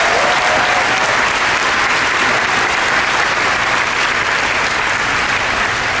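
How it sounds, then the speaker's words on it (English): An audience at the Disney Legends Awards ceremony at D23 Expo 2022 gives a loud, sustained round of clapping that stays dense and unbroken throughout. "how about another round of applause really for all the Disney ambassadors"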